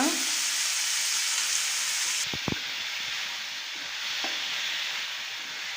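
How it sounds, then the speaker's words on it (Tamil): Tomatoes sauté in a pan for an onion chutney, giving off a steady hissing sizzle with a few brief knocks of a spoon, and the hiss softens partway through. "தக்காளி வந்து கொஞ்சம் லைட்டாக மசிஞ்சு வர அளவுக்கு வதக்கிக்கோங்க"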